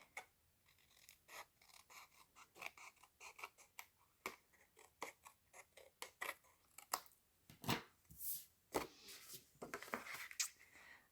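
Scissors snip and trim Very Vanilla cardstock during card making: a quiet series of short, crisp cuts and light paper rustles, close by and irregular, with no talk.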